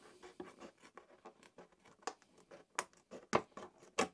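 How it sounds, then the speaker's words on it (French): Curved Lexan scissors snip along the lines of a clear polycarbonate RC car body, making close, irregular crisp clicks and scratchy cuts that grow sharper toward the end. "il suffit d'utiliser un ciseau Alexan courbe comme celui-ci et de suivre les lignes"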